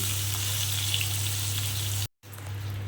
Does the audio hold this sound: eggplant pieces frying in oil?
yes